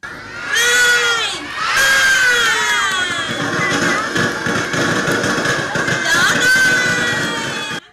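A young audience of schoolchildren loudly cheers and shrieks after a lively children's dance at a school leaf-market event. The cheering is continuous and boisterous, swelling at the start and again near the end.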